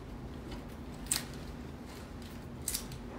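Scissors cutting pink lily stems for a flower arrangement give two crisp, quick snips, about a second and a half apart, over a quiet low background hum.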